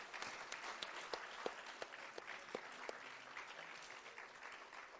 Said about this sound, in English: Give yourselves a round of applause one more time.